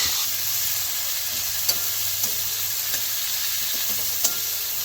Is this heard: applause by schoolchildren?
no